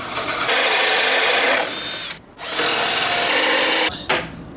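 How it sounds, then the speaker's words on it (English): A power drill whirs loudly in two long bursts drilling holes in wood on an old desk, with short pauses where the motor briefly stops, then a quick final spurt. "The holes are all drilled."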